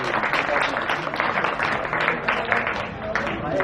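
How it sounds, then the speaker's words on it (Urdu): Dense, steady clapping from an audience at a gathering in Kabirwala, cheering on Komal Joya, sustained at even loudness for a few seconds with no distinct individual claps standing out. "دونوں ہاتھ بلند کر کے بھرپور تالیاں"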